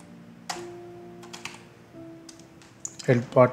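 Scattered keystrokes on a computer keyboard, a few sparse clicks followed by a quick burst of typing at the end, while someone speaks in the background.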